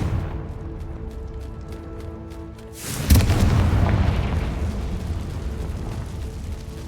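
The Confringo blasting spell in Hogwarts Legacy lands with a single loud, sudden boom after a quieter humming lead-in, then leaves a long, rumbling roar that fades slowly.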